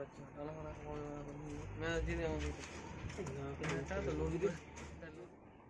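Giribaj pigeons kept for sale at a pigeon market coo softly and repeatedly under steady talk from someone speaking close by.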